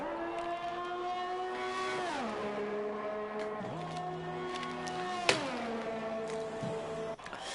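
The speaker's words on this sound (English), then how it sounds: "the next driver on the flying lap in the Ferrari" A Ferrari Formula 1 car's engine screams at high revs on a flying lap around Bahrain in the F1 2021 video game, loud and steady, dipping sharply through gear changes before climbing again.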